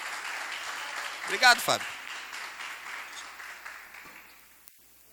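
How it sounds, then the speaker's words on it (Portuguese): A church congregation claps together in a soft, continuous patter while someone speaks briefly over it; the applause swells slightly, then thins and fades away toward the end. "Você pode aplaudir a vida do Fábio por isso?"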